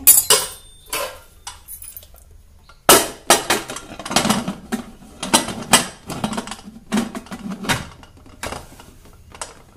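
Repeated close metallic clatters and scrapes as a plate is placed over a pot inside a pressure cooker for dal khichdi, with several sharp knocks and rattles spread across the clip.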